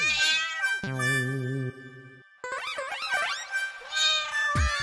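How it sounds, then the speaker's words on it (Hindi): Indoors, a cat meows several times, loud and close: drawn-out, wavering cries with short gaps between them, and nobody speaking. "दरवाजा खुला क्या रखा, बिल्ली आ गई अंदर।"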